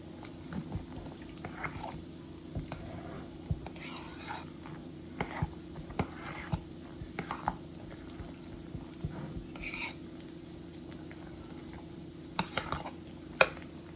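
Quiet, repeated soft scraping and stirring as chicken dressing seasoned with black pepper is mixed in a bowl, with irregular taps and clinks over a steady low hum.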